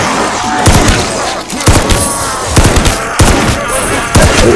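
Loud gunshots ring out in a zombies video game, heavy booming reports spaced about a second apart in a steady rhythm, each with a sharp attack and rumbling tail.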